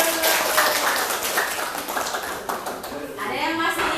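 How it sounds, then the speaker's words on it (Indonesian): A classroom of high school students clapping hands in a short, uneven burst of claps with taps and children's voices talking over it, fading toward the end. "Tepuk tangan dulu."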